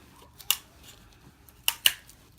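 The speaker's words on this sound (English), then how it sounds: "I'm just gonna cut these pieces of tape in half in pieces" Scissors snip through pieces of tape, giving a few sharp, close cuts: one near the start and a quick pair of snips toward the end, all with quiet pauses between.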